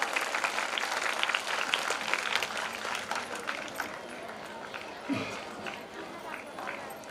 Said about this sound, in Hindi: तो मैं चाहूंगी एक बार जोरदार तालियां हो जाए हमारे यहाँ उपस्थित सभी पिताओं के लिए।